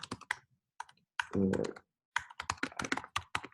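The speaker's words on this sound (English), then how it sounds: "You could type whatever, but I'm just typing" Typing on a computer keyboard close up, bursts of rapid clicky keystrokes separated by short pauses, with one brief low thump in the middle and no talking.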